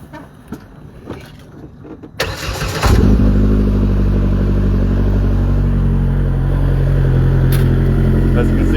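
Polaris Pro R turbo UTV with a 500-class engine is cranked over after some scattered clicks and handling noises, catching about three seconds in and settling into a loud, steady idle close by.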